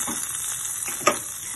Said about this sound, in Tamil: அரைக்கீரை கடையில் வந்து இந்த மாதிரி கடுகு உளுத்தம் பருப்பு போட்டு நம்ம தாளிச்சிடணும்.